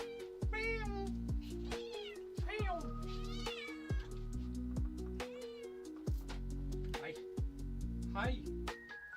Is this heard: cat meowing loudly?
yes